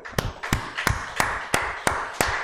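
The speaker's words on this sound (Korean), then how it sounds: "우리 그런 분에게 한번 박수할까요?" A church congregation claps in short, sharp bursts, seven evenly spaced claps across the sanctuary, loud and clear with no talking over them.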